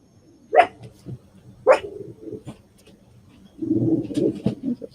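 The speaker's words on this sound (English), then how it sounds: "Sorry about my dogs." Pet dogs, excited at seeing a neighbor, give two sharp, loud barks close by, followed by lower grumbling and huffing noises.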